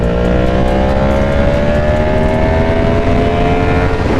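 A Yamaha MT-10 motorcycle pulls hard in fourth gear, its loud, steady engine note climbing smoothly and continuously with no break, close and dominant under constant wind rush.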